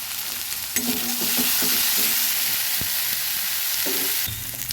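Onion frying in a pan with powdered spices, cumin powder among them, a steady close sizzle broken by scraping stir strokes and a few sharp clinks of a spoon on the pan.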